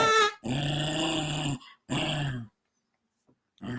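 A dog growls loudly and close up in two long, sustained rumbling bursts, with a brief snarl at the start and another beginning at the end, separated by short silences.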